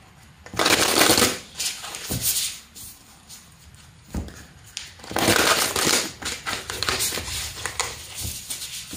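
Cards shuffled by hand for a card reading, coming in two long riffling bursts separated by a short pause, close and fairly loud with no talking.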